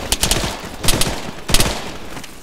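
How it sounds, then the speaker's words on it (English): Bursts of machine gun fire in the military shooter Arma 3, three clusters of rapid, loud shots spaced about half a second apart with a steady background rumble. "It's a machine gun."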